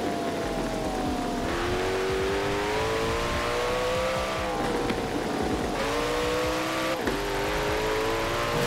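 Car engine in the video game Forza Horizon 4 revving hard and shifting through gears, loud and close, pitch climbing then dropping at each change, with no talk.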